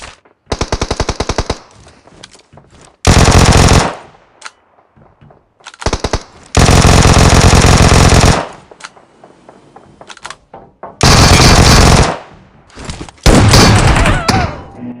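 Automatic gunfire in the mobile battle royale game BGMI, with loud sustained bursts of rapid shots alternating with short pauses and softer distant thumps, repeating across the whole stretch.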